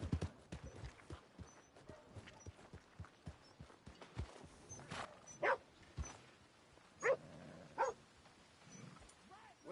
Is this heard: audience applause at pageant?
no